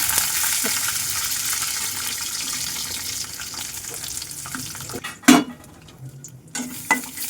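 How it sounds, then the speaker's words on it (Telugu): Grated coconut fries in hot oil in a pan, a steady sizzle with stirring and a couple of sharp clinks of utensil against the pan. "సో ఫస్ట్ అయితే మనం ఇట్లా కొబ్బరి అయితే ఫ్రై చేసుకున్నాము"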